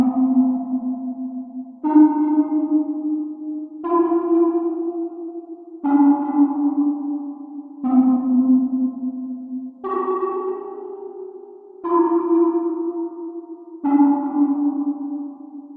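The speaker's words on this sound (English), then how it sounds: "an Alchemy patch playing this rather excellently named grunge dream synth patch" Logic Pro Alchemy "grunge dream" synth patch playing eight sustained chords, one every two seconds, each with a soft swelling attack and a steady low tone under brighter upper partials, loud and alone.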